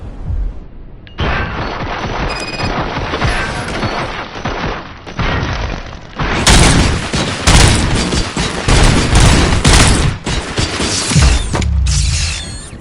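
Heavy sustained gunfire in Robocop: Rogue City, a dense loud clattering barrage of rapid shots and mechanical rattling that grows even fiercer partway through and runs almost nonstop.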